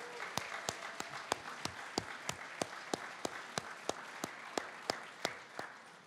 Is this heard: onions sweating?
no